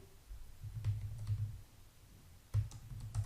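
Someone types a name on a computer keyboard, giving two short runs of soft, close keystrokes separated by a brief pause.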